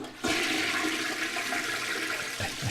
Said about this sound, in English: in case I need a sound of a toilet flushing, I got it now